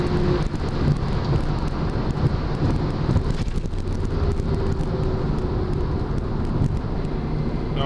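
Mazda RX-7 FD with a twin-turbo rotary engine accelerating hard at full throttle from about 4,000 RPM, heard from inside as a steady, dense engine drone mixed with wind rush, with no talk.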